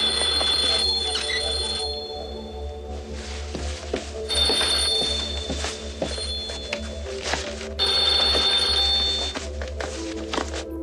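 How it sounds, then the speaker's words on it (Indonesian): Home landline telephone ringing in a quiet room, three bursts of electronic trilling rings at steady intervals over a low hum, with faint knocks between them. "telepon rumah berdering"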